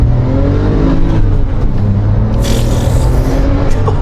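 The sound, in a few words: 2007 Porsche 911 Turbo engine revving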